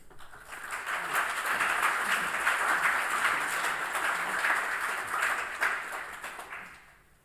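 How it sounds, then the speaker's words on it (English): Audience applause for a lecturer at a philosophy lecture on commonism, a steady broad wash of many hands clapping that swells quickly, holds for about six seconds and tapers off at the end. "Please give him a warm applause."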